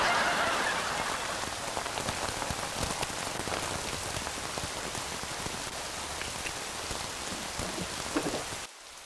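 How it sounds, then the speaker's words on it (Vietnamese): Heavy rain falls outside in a steady, dense hiss of drops on surfaces, loud and continuous for nine seconds before cutting off abruptly at the end, with no one talking. "trời mưa lớn quá"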